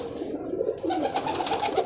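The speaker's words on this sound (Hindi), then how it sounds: "ये इसमें मेरा गोल्डन कबूतर है" A golden pigeon, a favourite breeding bird 15 to 18 years old, coos in soft, low repeated rolls, close and clear against a faint background.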